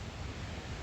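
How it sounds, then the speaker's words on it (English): A waterfall rushes steadily in the background at a trailside campsite, a continuous broadband roar of falling water with no talk over it. "You can probably hear that waterfall in the background."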